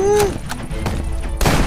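Rapid bursts of video game gunfire crack in a quick volley, loud and close, with a brief pause before another shot.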